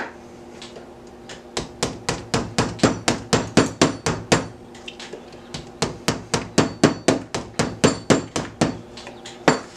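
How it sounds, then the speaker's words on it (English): A hammer drives a chisel into plaster in a steady run of sharp, close knocks, roughly three dozen strikes with a brief pause near the middle, and no voices. "the smaller chisel will actually take out bigger chunks"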